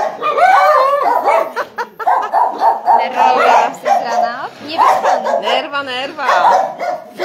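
Small mongrel dogs bark and yap almost nonstop in the morning, with loud, close, overlapping yips and occasional whines.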